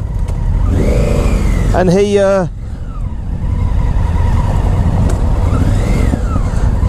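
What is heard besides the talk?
Honda Africa Twin motorcycle with baffleless Scorpion exhaust revving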